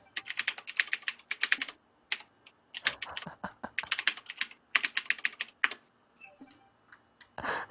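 Fast typing on a computer keyboard, bursts of rapid close clicky keystrokes separated by short pauses, with a few heavier key thumps; near and crisp, with no talk over it.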